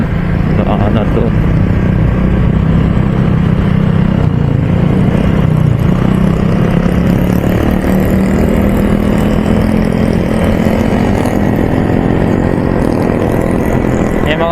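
Loud, continuous road noise of motorcycle exhausts and engines on a Philippine road, a steady droning rumble throughout with traffic passing close by and talk mixed in.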